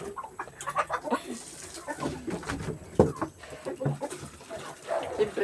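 Backyard chickens cluck in short, irregular bursts at close range, with sharp scratches and bumps scattered among the calls and no talk.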